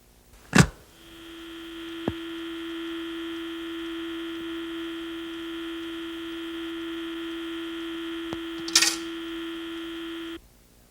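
An old landline handset is lifted with a click, followed by a steady, continuous telephone dial tone that holds for about eight seconds, broken by a faint click and a brief rustle before it cuts off.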